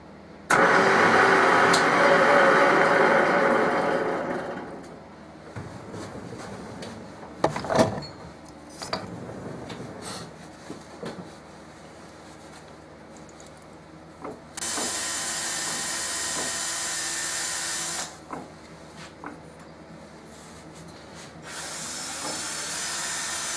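A machine cuts stainless steel at minimum speed while screws are threaded, giving a steady loud grinding whir that stops, then scattered clicks and knocks before the motor runs again in two further long steady stretches.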